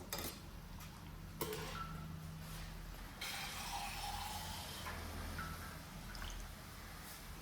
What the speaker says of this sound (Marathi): थोडंसं पाणी टाकायचं आहे आपल्याला